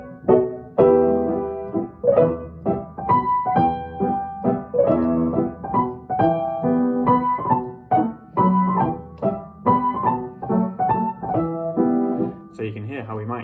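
Piano-style mazurka accompaniment for a Cecchetti grade 3 ballet barre exercise of chappés and relevés, with steady accented chords in a lilting triple meter, played loud and close and heard alone.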